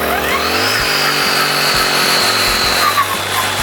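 A Honda GX-35 four-stroke brush cutter engine idles and then revs hard under the throttle, a loud, close, steady buzzing drone with small dips in pitch as the throttle is worked.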